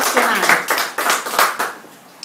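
A small audience claps at an Italian book-festival reading event, a short burst of fairly close, uneven handclaps that fades toward the end.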